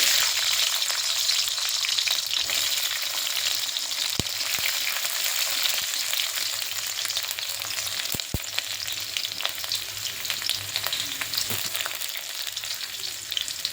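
Garlic fries in hot oil in a wok on a gas stove, giving a steady close sizzle that runs the whole time, with a few sharp stirring clicks and no talk.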